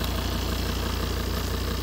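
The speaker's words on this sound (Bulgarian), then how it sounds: "Двигателчето работи доста равномерно." A cheap used car's engine with a mechanical vacuum EGR idles evenly, giving a steady, close mechanical rumble with regular fine pulsing and no talk.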